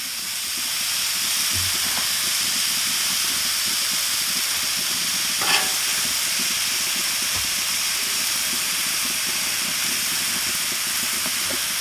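Cheesesteak meat sizzling on a hot griddle, seasoned with Redneck Chef Boudreaux's Pitmaster's Choice, gives a steady, close hiss that runs unbroken throughout, with one brief clack near the middle.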